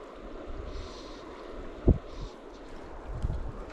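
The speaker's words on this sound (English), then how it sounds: "Oh, wind, go away." Wind gusting at a rock creek during cold spring fishing, a steady broad rushing roar buffeting the microphone, with a brief sharp thump midway and no talking.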